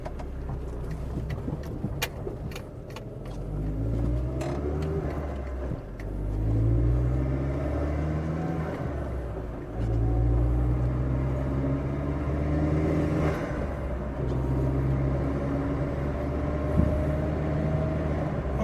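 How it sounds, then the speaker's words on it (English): A VW GTI with a swapped 1.8T engine drives along with a steady, close low rumble, swelling as it accelerates and easing off around shifts, with no talk over it. "the recirc valve definitely sounds different since I have changed the intake"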